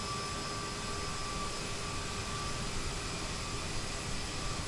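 CRJ900 jet engines in flight in Microsoft Flight Simulator give a steady, broadband whooshing roar with faint tonal whine, continuous and even throughout, with no voices.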